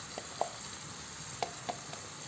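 A pan of palak chicken sizzles steadily as water goes in and a spoon stirs it, with a few soft scraping taps over the constant frying hiss.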